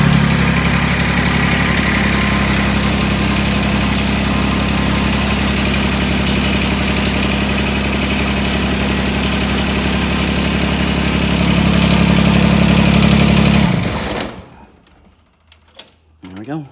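A John Deere tractor engine idles loud and steady after a cold start, a constant low rumble that cuts off abruptly near the end, leaving faint clatter and quiet.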